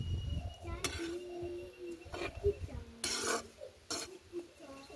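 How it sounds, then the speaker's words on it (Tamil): Ingredients with salt are stirred and tossed in a pan, giving a few scattered scraping and clinking strokes over a quiet background, fairly faint and irregular. "எங்களுக்கு தேவையான அளவு உப்பை சேர்த்து ஒரு பிரட்டி விடுவோம்"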